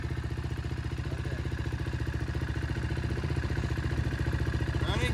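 A KTM quad engine runs with a steady, rapid pulsing rumble, close and even throughout, with faint voices under it near the end.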